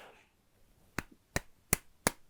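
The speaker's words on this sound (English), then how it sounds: "A reasonable clap." Four sharp hand claps ring out one at a time at an even, unhurried pace, each a crisp isolated smack with quiet gaps between, following a short stretch of near silence.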